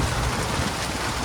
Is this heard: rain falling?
yes